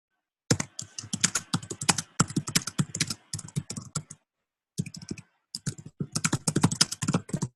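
Rapid, uneven clatter of keys on a computer keyboard, close by, in several bursts separated by brief pauses, with no voices.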